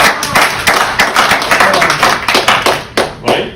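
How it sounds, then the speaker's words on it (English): A small group claps for a man in an exercise therapy session after his ankle mobility improved, with close, loud, distinct hand claps in a quick irregular rhythm and no voices. "Give him a big round of applause"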